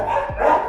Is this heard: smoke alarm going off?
no